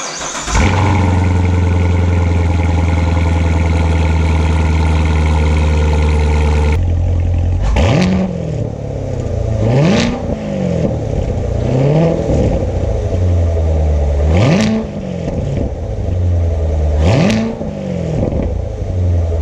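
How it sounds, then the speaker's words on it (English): Corvette C7 Grand Sport on its stock exhaust making a cold startup: a loud crank and catch settling into a high, steady fast idle, then a lower idle broken by several sharp throttle blips that rise and fall, close and alone. "This is the current C7 exhaust with a cold startup."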